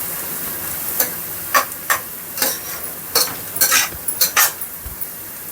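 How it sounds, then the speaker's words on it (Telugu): A spoon scrapes and clinks against a pan while stirring onions and curry leaves frying for mushroom curry, sharp metallic knocks at an uneven rhythm over a faint, steady sizzle. "అన్నిటిని ఒకసారి బాగా కలిపేసుకొని బాగా ఫ్రై చేసుకోవాలి."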